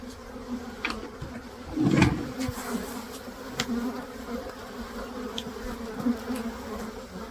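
Honey bees buzz steadily at a neglected hive infested with varroa mites, a dense close drone with one louder swell as bees pass near.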